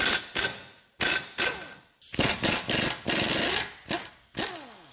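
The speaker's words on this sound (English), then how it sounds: "get your favorite impact wrench and 17 mil and hammer these two bolts out" Short bursts of a rattling impact wrench start and stop repeatedly, loud and close, hammering out 17 mm bolts during a lower ball joint replacement on a Kia Rondo.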